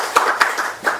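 Brief applause at an evening meeting, a few sharp claps close by in just under a second, loud and unaccompanied by voices.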